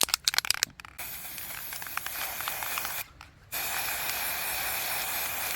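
An aerosol can sprays black paint at close range in steady, loud hissing bursts, broken by a couple of brief pauses.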